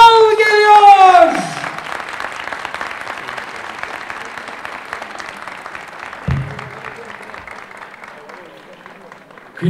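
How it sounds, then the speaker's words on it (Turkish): Applause from an audience at the opening of an election campaign office in Elazığ, Turkey, a loud burst of clapping over a voice at the start, then steady dense clapping continuing under the noise to the end. "yoğun bir alkışla Milliyetçi Hareket Partisi Elazığ İl Başkanı Sayın Yunus Bal geliyor"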